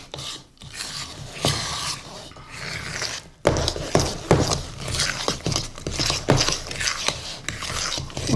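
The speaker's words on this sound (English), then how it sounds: "And we'll just mix those in well." Chopped nuts being stirred into coffee cake batter in a bowl, a steady scraping and rubbing with irregular strokes and soft knocks, close and fairly loud, with no talking.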